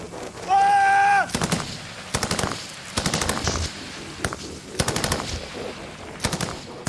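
Royal Marines fire a machine gun in combat against the Taliban. Rapid, sharp bursts of automatic fire come in several clusters, loud and echoing, after a brief tone near the start.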